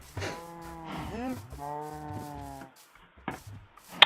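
Cows in the Minecraft video game moo twice in quick succession, the second call long and sustained, followed by a few soft knocks and taps.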